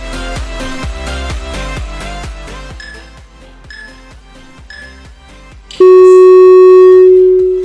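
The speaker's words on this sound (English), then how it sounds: "hold it till the timer rings" A workout timer counts down with a run of rhythmic electronic ticks and beeps, then rings out in one loud sustained tone that fades near the end.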